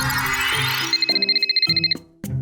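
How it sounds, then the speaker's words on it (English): Mobile phone ringtone plays from inside a pocket as a quick chain of bright, evenly spaced beeps, fairly clear against background music. It cuts off abruptly. "What's that ringing noise? Is that a phone?"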